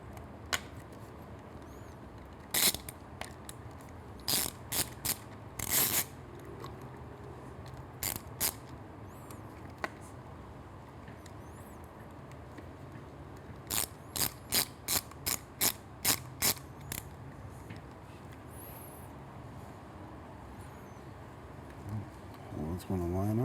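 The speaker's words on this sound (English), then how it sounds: "we get this screw in, again with the T30" A T30 Torx driver tightens a screw on a Triumph Street exhaust system, giving bursts of sharp ratcheting clicks close up in several short runs over a quiet background.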